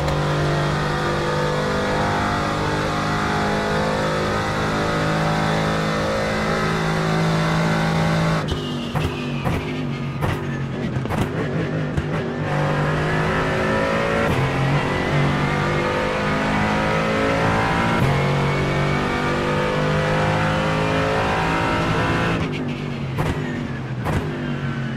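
A BMW race car engine screams at high revs during a race, climbing through gears with sharp shifts, loud and continuous throughout, with another engine close behind.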